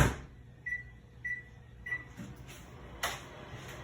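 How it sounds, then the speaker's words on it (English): Three quick electronic beeps, then the low steady hum of a microwave oven running, with a soft thump near the end. "pop it in the microwave for about 45 seconds"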